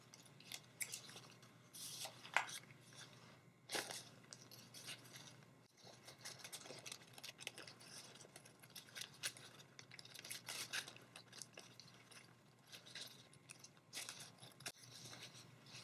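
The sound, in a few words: scissors cutting a paper pattern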